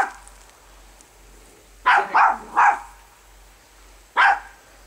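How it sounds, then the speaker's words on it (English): A dog in a backyard gives three quick sharp barks in a row, then a single bark after a pause, moderately near against a quiet low hum. "What's Daphne barking at"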